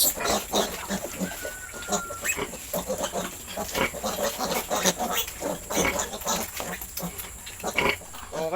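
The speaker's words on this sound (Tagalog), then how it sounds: "kung mapapansin nyo, oh, sobrang napakalakas po nilang dumede" Newborn piglets suckle noisily at a sow's teats, giving a steady run of close grunts, squeals and snuffling sucking noises throughout.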